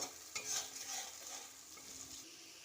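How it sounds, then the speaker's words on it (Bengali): A green chili and tomato paste with spices fries in a pan with a faint, steady sizzle, and a few soft spoon scrapes sound at the start. "খুব ভালো করে মশলাটাকে একটু কষিয়ে নেব"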